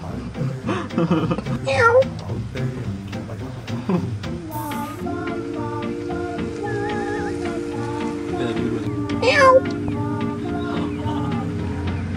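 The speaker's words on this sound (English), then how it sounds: "Meow." A cat meows a couple of times, rising and drawn out, over a background with faint tonal hum and light pattering.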